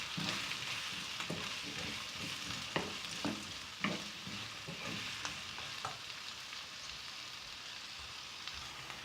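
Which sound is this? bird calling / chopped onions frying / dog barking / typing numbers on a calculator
chopped onions frying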